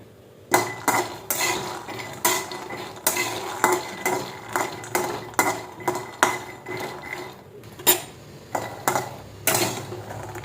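Peanuts roast in a dry pan while being stirred, giving repeated close, sharp scraping and rattling knocks of utensil on metal in an irregular rhythm, with no voices.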